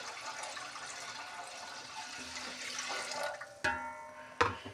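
Water pours steadily into a cooking pot holding whole garam masala and ginger pieces, a soft continuous rushing flow close by that ends with a couple of sharp metallic clinks.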